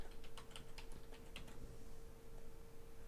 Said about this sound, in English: So type in a password for Bob's account